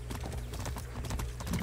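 A horse gallops in the Far Cry 6 video game, a quick steady rhythm of hoofbeats close and loud throughout, with faint talking underneath.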